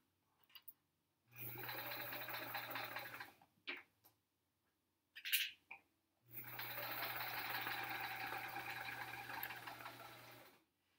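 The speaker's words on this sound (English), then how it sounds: "I still have to pay attention to make sure I'm sewing in a straight line" A sewing machine stitches an hourglass block quilt top in two steady runs of rapid, even whirring with a low hum, separated by a pause with a few short bursts and clicks, close and clear.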